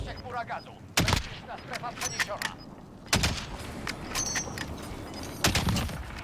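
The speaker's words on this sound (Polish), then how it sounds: "To był ładny strzał, żeby zakończyć Warzonika." Gunfire in the Warzone video game: three sharp, loud shots spaced a couple of seconds apart, ringing over softer game sounds and a faint background voice.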